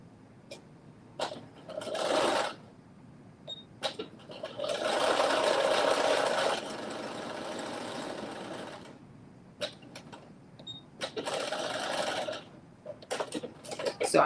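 Sewing machine stitching a right-sides-together seam on a McCall's 8370 garment, running in several bursts of a few seconds each with short pauses and faint handling noises between runs.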